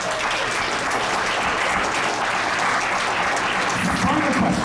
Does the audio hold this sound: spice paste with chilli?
no